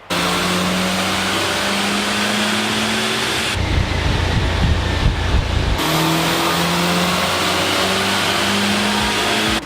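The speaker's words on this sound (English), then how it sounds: "we just finished our dyno runs" Mitsubishi Evo 9 wagon engine revving on a dyno during back-to-back power runs, a loud, close roar that climbs in pitch, drops off into a brief rumbling lull, then picks up again and keeps climbing.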